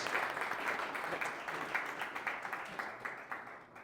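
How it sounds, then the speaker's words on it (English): A short burst of applause from a crowd, steady clapping that gradually thins and fades toward the end. "A quick round of applause for Kaustubh."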